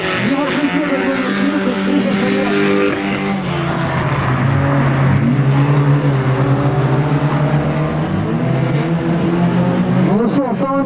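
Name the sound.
rally car starting and driving off on a winter track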